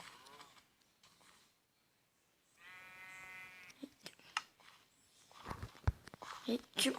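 Minecraft sheep letting out a wavering bleat in the middle, framed by quiet scuffs and clicks, with someone speaking softly before and after.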